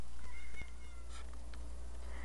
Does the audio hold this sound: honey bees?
no